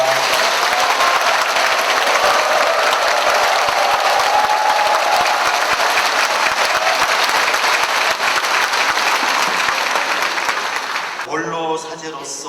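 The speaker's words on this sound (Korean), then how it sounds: "우리 주교님을 뜨거운 박수로 환영합니다" An audience at a Catholic martyrs' commemoration gathering gives a bishop a long, loud, dense round of applause that fades near the end, when a voice begins speaking.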